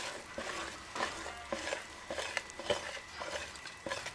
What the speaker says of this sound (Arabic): وهقلب